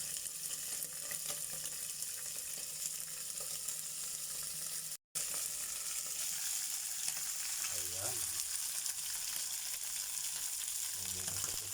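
Tulingan fish sputters and crackles in hot oil beneath a pan lid, a steady dense sizzle throughout with a few louder pops and splatters, close and uninterrupted apart from a momentary gap.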